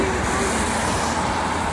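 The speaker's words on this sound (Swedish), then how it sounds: "det är massa trafik och sånt" Steady roadway traffic noise at night near a pike fishing spot, a continuous broadband roar of passing cars and heavier vehicles with no breaks.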